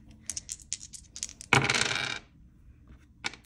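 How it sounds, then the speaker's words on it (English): Dice clatter in a quick, close rattle that tumbles and settles in about half a second, after some soft handling sounds and before a faint later tap. "Roll the dice."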